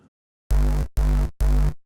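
Reese bass in Reason 8 with Antidote compression and stereo widening engaged, three loud sustained bass notes of similar length with short gaps between them, thick low end and bright buzzy upper harmonics.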